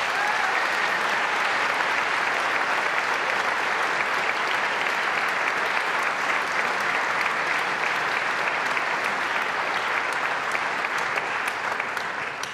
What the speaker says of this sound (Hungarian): azt gondolom, hogy megérdemelnek még egy hatalmas tapsot.